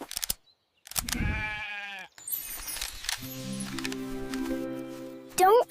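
Sheep bleat amid a children's animated farm scene, with a couple of wavering bleats over playful background music and sound effects, close and fairly loud.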